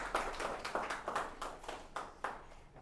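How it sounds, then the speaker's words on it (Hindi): A few people at a seminar clap in a loose, faint rhythm of separate claps spaced across a few seconds in a quiet room. "अब तालियां बजा।"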